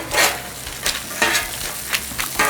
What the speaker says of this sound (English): dropping eggs on a really hot griddle, that's not a good thing